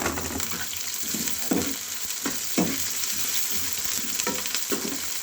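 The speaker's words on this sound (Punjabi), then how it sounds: "ਹੁਣ ਅਸੀਂ ਪਾ ਦਾਂਗੇ ਹਰੀਆਂ ਮਿਰਚਾਂ ਤੇ ਪਿਆਜ਼ ਨਾਲ ਹੀ ਤਾਂ ਕਿ ਦੋਵੇਂ ਚੀਜ਼ਾਂ ਭੁੱਜ ਸਕਣ" Green chillies and onion frying in desi ghee for a simple dal tadka, a steady close sizzle with soft crackles and a few louder stirring scrapes throughout, no voices.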